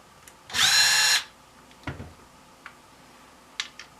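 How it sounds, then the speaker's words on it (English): A power drill backs screws out of a homemade stand for a Singer Stitch Quick sewing machine, one short loud whir of about half a second followed by faint clicks and handling knocks. "to take it off the stand, we do have to release these two screws"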